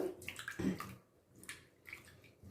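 Peeled taro root being rubbed and washed by hand in a bowl of water, with soft splashing and sloshing in short bursts, near and fairly quiet, with no talk.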